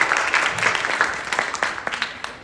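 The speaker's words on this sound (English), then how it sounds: "Please give her a round of applause." Audience applause at a public-speaking masterclass, a fairly close round of many hands clapping that gradually thins and tapers toward the end.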